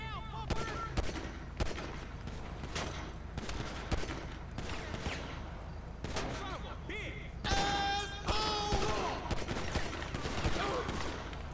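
Scattered gunshots and bursts of gunfire in a video game street scene, sharp cracks spread throughout amid game noise and other effects, with a voice talking over parts of it.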